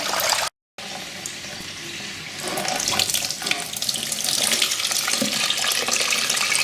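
Water gushes steadily through the cooling system of an overheating Yamaha R1 motorcycle during a coolant flush, a loud continuous rushing flow that briefly drops out near the start, then swells a little stronger.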